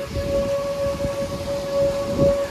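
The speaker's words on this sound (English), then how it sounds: "The siren just came back on for the fifth time tonight." A steady, sustained outdoor warning siren wails in the distance during a December derecho storm in Iowa, over a soft background of rumbling outdoor noise.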